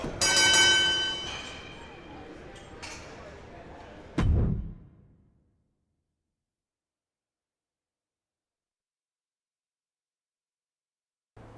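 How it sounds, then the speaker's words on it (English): Wrestling ring bell in WWE 2K25 clangs with bright ringing tones at the start, then a single heavy metallic strike rings out and fades into silence, followed by a faint thump at the very end. "ring the bell"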